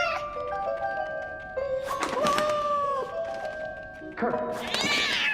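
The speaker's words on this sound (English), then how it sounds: "why is that cat meowing?" A cat trapped underground meows repeatedly, drawn-out plaintive cries close by, mixed with a voice speaking and a dull thump.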